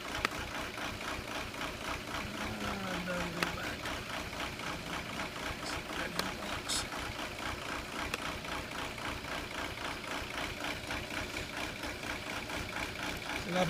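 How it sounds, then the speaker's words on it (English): A 2002 VW Jetta TDI diesel engine with an injection quantity fault idles roughly, a steady, continuous low clatter and rumble close by for the whole stretch, with no voices. "It just sits and idles like crap."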